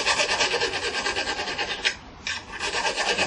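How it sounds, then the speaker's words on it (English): Close, steady rasping strokes as a knife blade is sharpened with a 1/8 chainsaw file while resting on wood, a rhythmic scraping with one brief pause near the middle. "So again, we use a 1/8 chainsaw file."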